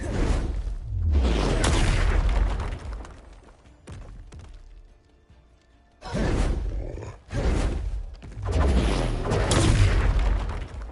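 Fire-spell explosions from the Confringo curse in Hogwarts Legacy: loud booming blasts with whooshing bursts, separated by a brief quieter lull, then two more heavy detonations.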